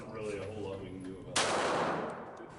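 A Kimber 1911 fitted with a .22LR rimfire target conversion kit fires a single shot of Browning Pro 22 ammunition indoors. One sharp, close report cuts in after a moment of quiet room sound and rings off briefly.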